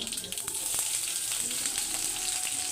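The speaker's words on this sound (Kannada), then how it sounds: "ಚೆನ್ನಾಗಿ ಎಣ್ಣೆಲಿ ಫ್ರೈ ಆಗ್ತದೆ ನೆಕ್ಸ್ಟ್ ಬೆಳ್ಳುಳ್ಳಿ ಹಾಕೋತಾಯಿದ್ದೀವಿ" Garlic fries in oil for a yogurt okra sambar, a steady, close, crackling sizzle that runs unbroken throughout with no talking.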